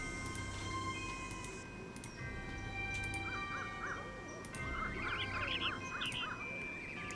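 Bird calls in the Nancy Drew: Ghost Dogs of Moon Lake game, short repeated chirping notes in small bursts over a steady ambient background, moderately loud, no talking.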